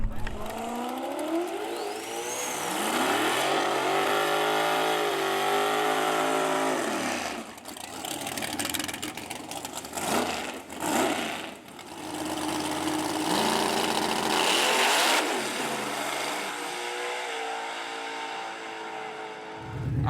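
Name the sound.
nitrous Camaro race car engine during a race run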